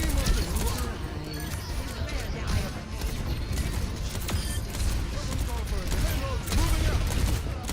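Rapid gunfire in an Overwatch 2 match sounds as dense, sharp reports packed into a constant, loud wash of game noise that runs through the whole stretch.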